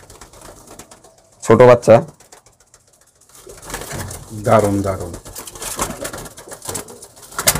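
Fulshira pigeons coo in a few soft bursts at close range, with a voice talking over and between the calls.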